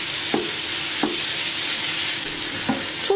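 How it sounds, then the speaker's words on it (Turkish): Chicken sizzles steadily in a hot pan over high heat, with a few scraping stirs of a utensil breaking the hiss. "Çok fazla sulandırmadan soteliyorum"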